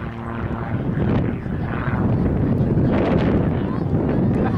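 Steady, loud engine roar of an Extra 300 aerobatic propeller airplane at an air show, mixed with heavy wind buffeting, continuous throughout with slight swells in intensity.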